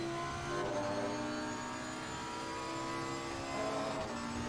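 A Lamborghini Super Trofeo race car engine in a racing video game at the Kyalami circuit, heard as a continuous mid-pitched roar with rising and falling revs across gear changes.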